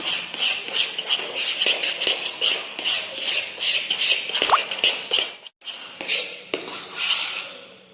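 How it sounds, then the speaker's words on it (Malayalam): Vanilla batter being stirred with a spoon or whisk in a bowl at a children's cooking competition: quick, rhythmic clinks and scrapes against the bowl, close and continuous, with one brief break. "എന്നിട്ട് നമ്മൾ സ്പൂണോ വിസ്ക് വെച്ചിട്ട് ഇളക്കി കൊടുക്കണം"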